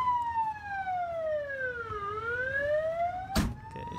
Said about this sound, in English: I'm sure everybody hear the sirens.